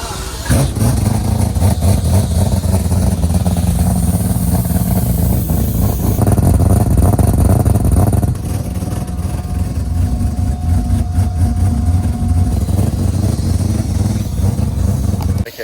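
A Mazda 323 with a four-rotor rotary engine runs loud and close, a continuous rough, buzzing drone that surges and shifts pitch, with a brief dip midway.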